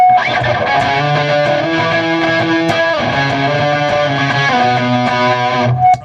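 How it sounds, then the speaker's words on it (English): Heavily fuzzed electric guitar plays sustained, buzzing notes and chords through a fuzz distortion pedal, thick and saturated, with no voices. "Which is like fuzz distortion."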